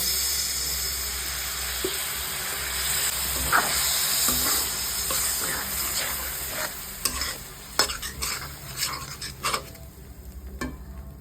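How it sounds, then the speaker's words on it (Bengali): Spice paste cooks down with a splash of water in a pan, a broad steamy sizzle running steadily before giving way to a flurry of quick spoon scrapes and clinks against the metal near the end. "এইবার একটু জল দিয়ে কষিয়ে নেব"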